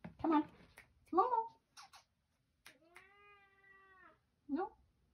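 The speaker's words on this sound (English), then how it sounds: "the people want to see their loud cat" A loud cat yowls in several drawn-out meows close by, including one long sustained caterwaul, with scratching pen sounds in a quiet room.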